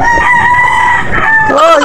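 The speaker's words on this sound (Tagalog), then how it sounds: "may tulaok na naman" A rooster crows loudly and close by in one drawn-out call that rises at the end.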